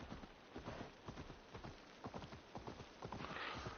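Steady clip-clop of horse hooves trotting at an even rhythm in Assassin's Creed Valhalla, close and fairly quiet, with a soft rushing background.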